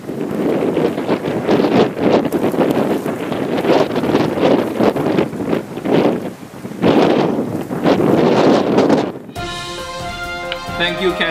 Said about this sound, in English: This is a live shot of Boston getting hit hard with wind gusting up to more than 60 miles per hour.